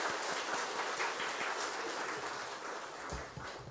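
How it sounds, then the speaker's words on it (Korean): A church congregation claps for a returning mission team, a continuous, fairly faint and distant patter of many hands through the short stretch. "좀 수고했다고 박수 한번 좀 부탁드립니다"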